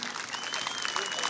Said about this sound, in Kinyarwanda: Nabwo muyikomeye amashyi nta gihombo twaba tugize.